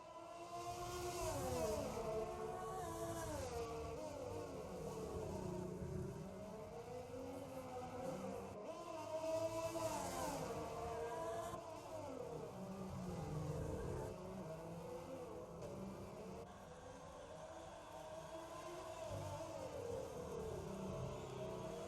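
Ferrari-powered race cars in a sim racing game at the Singapore Grand Prix, engines whining and rising and falling through gear changes, sustained and fairly faint.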